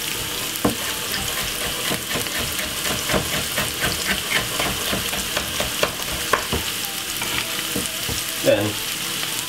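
Vegetables for Jamaican ackee sizzle steadily in a hot pan, with scattered clicks and scrapes as they are stirred. The frying hiss runs constant throughout, with no voices.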